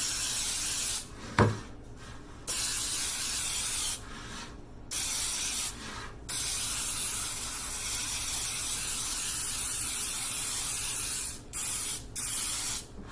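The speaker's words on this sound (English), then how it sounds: "I'm going to spray it well with Baker's Joy" Several bursts of baking spray hissing close by into a sheet cake pan, with short pauses between them, no talking.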